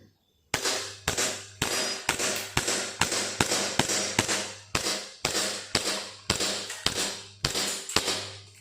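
A BB gun firing aluminium pellets at glass bottles at close range, a rapid series of about fifteen sharp snapping shots spaced roughly half a second apart, each with a short ringing decay.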